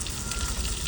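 A steak sears in a hot pan on a stove in a semi truck after sous vide cooking, giving a dense, steady sizzle with quick pops over a brief moment.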